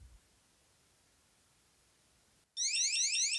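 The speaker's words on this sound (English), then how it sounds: "triggered the alarm to continue going off even after I dried all of the external sensors" A water leak alarm going off after water got inside, bursting in suddenly after near silence as a loud, shrill, rapidly pulsing electronic beep that continues without pause.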